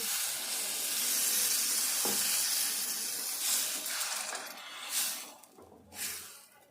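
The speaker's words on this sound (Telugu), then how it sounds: "ఇప్పుడు కొంచెము వాటర్ వేసుకుందాము." Water poured into a pan of frying dried fish and tomato curry sets off a soft hiss and sizzle, swelling in a few short steamy bursts toward the end, quiet and close with no talk.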